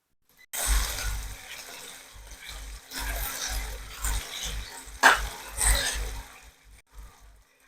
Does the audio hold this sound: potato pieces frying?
yes